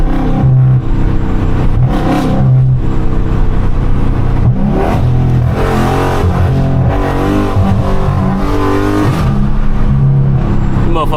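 A Dodge Scat Pack V8 driven with no hood revs loudly and steadily, a deep roaring engine that rises and surges over several seconds, heard close from inside the car with someone talking over it.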